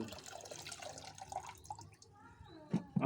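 Soaked green-leaf fertilizer water poured onto potted fruit plants gives soft splashing and dribbling, fairly faint and irregular, ending with a couple of louder splashes.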